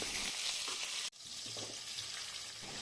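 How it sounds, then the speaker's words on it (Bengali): Potatoes fry in white oil in a kadai with cumin, dry chili, cardamom and cinnamon, a close, steady crackling sizzle that drops out briefly and then carries on. "একটি কড়াতে সাদা তেল দিয়ে জিরে শুকনো লঙ্কা এলাচ এবং ডালচিনি দিয়ে আলুগুলোকে ভাজতে দিলাম"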